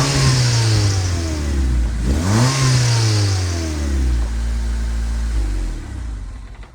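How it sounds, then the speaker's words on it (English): A turbocharged car engine with a new turbo-back exhaust and Eclipse downpipe idles with a deep rumble, then revs sharply once, falls back, and settles into a steady idle. "I'll put a rev clip right here so you can see how it sounds."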